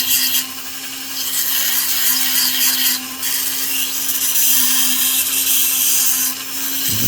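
A Dremel rotary tool grinds and bevels the edges of a rough opal picture stone, a loud, close, continuous whirring buzz with gritty rasping that eases briefly and returns.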